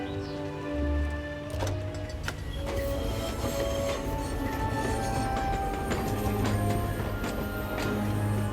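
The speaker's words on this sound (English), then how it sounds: "And now we're on the tram." A tram rolls along rails in the video game Syberia 4, with a steady rumbling ride, rhythmic clicking over joints and bright wheel squeals cutting through.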